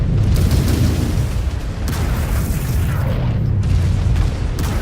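Heavy booming explosions and rumbling blasts as an enemy mech is destroyed in Mechwarrior 5: Clans, loud, continuous low-end roar with several sharp bursts layered over it.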